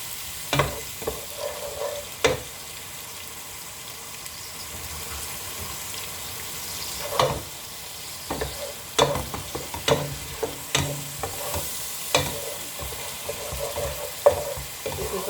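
A pan of green paste with coriander leaf, mint leaf and green chillies for prawn biryani fries with a continuous sizzle. A spoon stirs and scrapes it repeatedly in irregular clacks, close and unaccompanied by voices.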